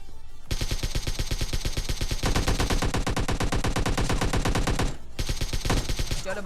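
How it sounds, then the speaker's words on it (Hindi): Rapid automatic gunfire in the PUBG Lite battle-royale game, loud sustained bursts of closely spaced shots with a brief pause before firing resumes. "सामने की साइड से कुछ गन साउंड्स आते हैं फाइनली"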